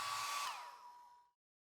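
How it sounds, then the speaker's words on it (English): A hair dryer blows steadily to warm one side of a dbrand skin on a Galaxy Buds case, a close, loud whoosh that fades out over about a second as it is switched off. "Grab your hairdryer and heat one side of the case."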